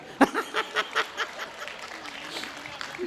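Audience at a Hindi comedy poetry gathering claps in a short, faint burst of about six distinct claps, fading into low murmur and chuckles.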